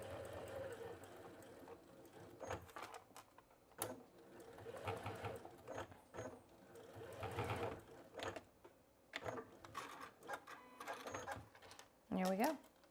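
A sewing machine stitches across the bottom of fabric for a small chapstick holder, running in short, uneven bursts of rapid whirring and clacking with pauses between, fairly quiet, and a voice is heard talking over parts of it.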